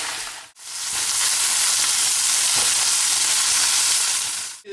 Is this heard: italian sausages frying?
yes